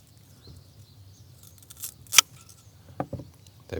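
A canna rhizome is cut into pieces at close range. One sharp, crisp snap stands out midway, followed by a few softer cutting clicks against a quiet background with no talk.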